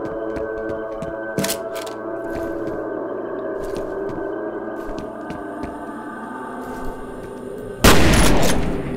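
Shotgun blasts in the shooter game F.E.A.R.: one sharp shot early and a heavier, louder burst near the end, both standing out over a steady low droning hum.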